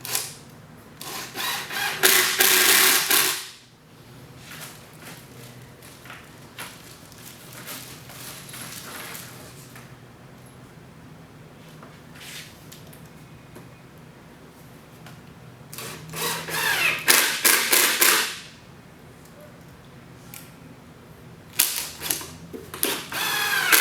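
A power drill driving 2-inch screws into the dados of a large wooden Montessori bookcase during assembly, several loud buzzing bursts of a few seconds each separated by quieter pauses, close up with no talk.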